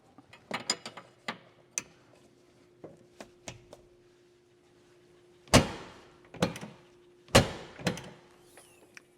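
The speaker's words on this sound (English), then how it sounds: "this door latch where it closes easily and properly" Metal door latch on a cattle ranch being adjusted and shut, sharp clicks and metallic clanks in scattered bursts, then three loud latching slams near the end, close and clear with no talk.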